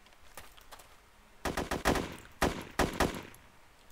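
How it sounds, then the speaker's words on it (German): Bursts of automatic gunfire in ArmA 2 Wasteland, a short quiet shot then two rapid volleys of several rounds each, fairly close and sharp, with no talk over them. "Ich hab irgendwen erschossen, der auf euch geschossen hat"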